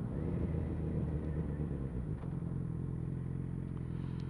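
A motorcycle on the road, its engine a continuous low drone with wind rumble, steady and close throughout.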